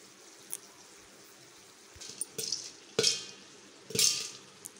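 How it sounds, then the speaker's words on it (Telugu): Sorghum grains pop and crackle in a hot pan, sparse sharp pops spaced about a second apart over a quiet background, growing a little louder toward the end. "సౌండ్ చూసారా, చిట్టపట్టలు ఆడుతున్నాయి."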